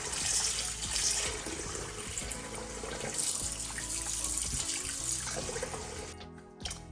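Cold tap water runs steadily over raw chicken breast in a sink, a close, continuous splashing stream with shifting trickles as the meat is rubbed, cutting off abruptly near the end.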